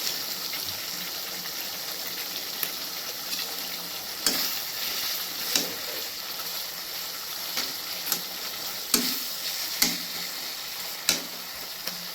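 Pabda fish sizzles in hot mustard oil in a pan, a loud, steady frying hiss broken by scattered sharp pops and crackles.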